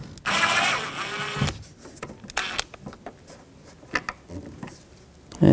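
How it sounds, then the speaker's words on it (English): A Phillips head screwdriver working a screw on a 2004-10 Toyota Sienna sideview mirror assembly, with a sharp high squeal and rattle at first, then scattered clicks, taps and scrapes of tool against plastic trim, close up. "take this screw out, Phillips head screwdriver"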